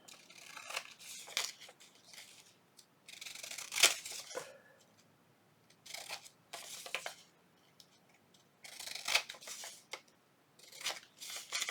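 Scissors trim paper for a junk journal collage: close, fairly quiet bursts of snipping and crisp cutting strokes, separated by short pauses, with no talk.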